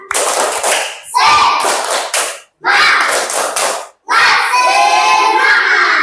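A crowd of Indonesian children claps in rhythmic bursts with shouted calls, three loud segments separated by brief silences, close and energetic.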